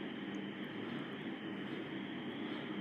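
Aircraft engine in steady flight in the X-Plane Mobile flight simulator game, a constant smooth drone and whine held at even loudness with no talking.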